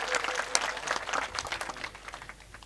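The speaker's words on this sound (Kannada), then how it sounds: "ಎಲ್ಲ ಮಾಧ್ಯಮ ಬಳಗಕ್ಕೆ ಜೋರಾದ ಚಪ್ಪಾಳೆ ಮೂಲಕ ಸ್ವಾಗತ ಮಾಡಿಕೊಡ್ರಿ" Loud applause from a crowd at a farmers' rally, welcoming the media, with dense clapping that swells sharply near the start and then gradually thins and fades.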